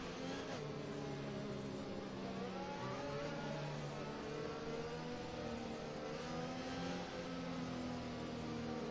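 Race cars accelerate through the field at Spa in a racing video game league round, with a steady layered engine drone and rising revs that continue throughout, with no talking.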